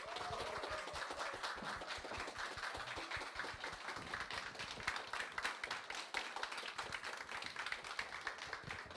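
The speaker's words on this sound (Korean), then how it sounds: "한창호 리더님 등장하실 때 뜨거운 환호와 함성으로 맞아주시면 감사하겠습니다" Seminar and rally audience applauding a speaker's entrance, a steady, fairly faint wash of rapid hand claps heard from a distance with no talking.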